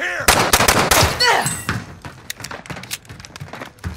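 Rapid automatic gunfire in Call of Duty: Modern Warfare multiplayer, loud bursts up close that thin into scattered shots and thuds amid the firefight.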